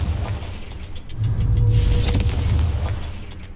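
A Confringo spell explosion in Hogwarts Legacy bursts with a loud booming blast and a crackling burst of debris, followed by a lingering low rumble.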